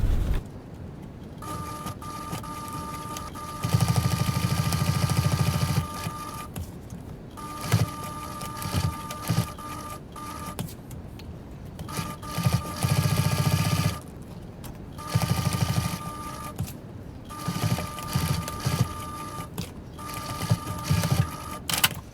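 A sewing machine stitches around the window of a sling bag pocket in repeated runs, a steady whirring hum that starts and stops with short pauses between seams, close and alone.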